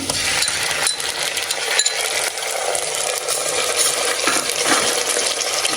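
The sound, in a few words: frying ginger garlic paste for mushroom pulao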